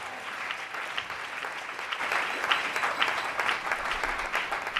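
Church congregation applauding and cheering, a steady wash of clapping that swells and grows louder midway, with faint crowd voices mixed in, fairly close and continuous throughout.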